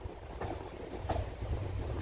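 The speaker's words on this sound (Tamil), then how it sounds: "எலங்கா ரயில்வே ஸ்டேஷனுக்குள்ள என்டர் ஆயிட்டு இருக்கோம்." A MEMU train rolls into Yelahanka railway station, its carriages rumbling close with rhythmic wheel clatter and a steady low roar heard from on board.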